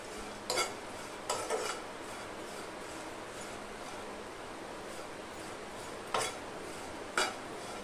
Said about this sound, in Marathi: सुकट आपल्याला अशी भाजून घ्यायची